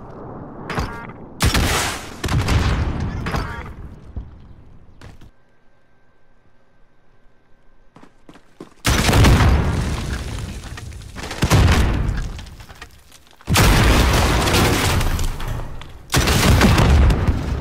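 Heavy airstrike explosions in Call of Duty Warzone land as loud, booming blasts in several separate bursts, each followed by rumbling debris. A quieter lull with faint tones comes between the first and later impacts.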